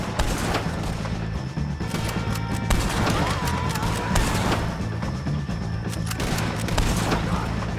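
Red Dead Redemption 2 gunfight against O'Driscoll gang members: dense, continuous volleys of gunshots and booms crackle throughout amid battle noise, with faint shouting mixed in.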